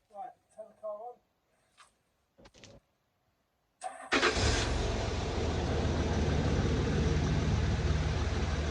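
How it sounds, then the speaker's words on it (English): Land Rover Discovery 3 engine cranking and firing up after a few short spoken words, the starter catching abruptly before settling into a loud, steady idle close by. "Right, turn the car on."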